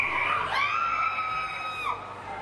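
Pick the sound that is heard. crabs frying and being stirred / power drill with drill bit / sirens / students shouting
students shouting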